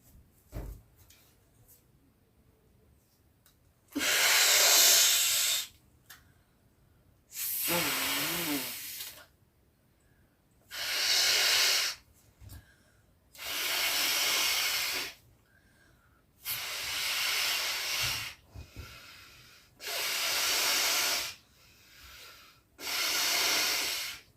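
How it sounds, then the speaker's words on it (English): A large, soft-material happy birthday balloon is blown up by mouth in a series of long, forceful breaths of air, about seven spaced puffs with quiet pauses between them, close to the mic. "इसको पूरा फुलाने के लिए मुझे बहुत टाइम लगने वाला है।"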